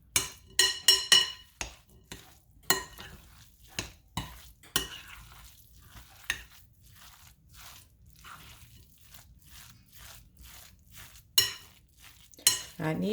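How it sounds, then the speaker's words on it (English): Ingredients for a vegan un-turkey roast are mixed with flax eggs in a bowl, giving repeated wet stirring scrapes and squishy clicks in an irregular rhythm, close and moderately loud, with no speech. "So let's mix this all together."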